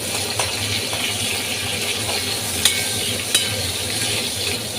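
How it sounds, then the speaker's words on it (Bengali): Torn green chillies fry in a hot pan for a Bengali shapla (water lily stem) mustard dish, giving a steady close sizzle with a couple of sharp clicks, and no one speaks. "তো ভালোভাবে ভাজা আমার হয়ে গেছে, এখন আমি দিয়ে দেবো ছেঁড়া কাঁচা লঙ্কা।"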